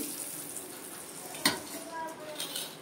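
Lightly fried vegetables, including green plantain, lifted out of hot oil, a constant close sizzle broken by a sharp metallic scrape of a utensil against the pan and softer stirring clinks.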